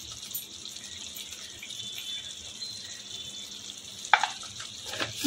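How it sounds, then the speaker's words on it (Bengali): Jackfruit curry being stirred in a pan, a faint steady sizzle with soft scraping, then a couple of sharper utensil clinks toward the end, close and quiet. "ভালো করে নেড়ে চেড়ে নেব।"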